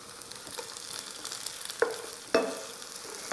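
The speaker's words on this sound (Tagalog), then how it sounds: "Iprito lang din natin hanggang sa maging ganito na yung kulay" A burger steak patty frying in a pan, a soft steady sizzle with two sharper crackling pops partway through, close and fairly quiet, no talking.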